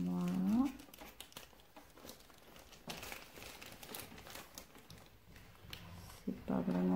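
Crinkling and tearing as a package of embroidery pieces is opened with scissors, intermittent rustles close by, with someone speaking over them.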